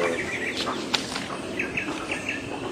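Outdoor bird chirps and short repeated calls over a busy, hissy background, with a brief flutter and distant ambient noise.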